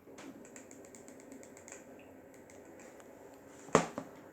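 A quick run of small, light clicks from a Samsung Galaxy A51 phone's power button pressed repeatedly up close, followed by one louder, fuller click near the end, with no voices.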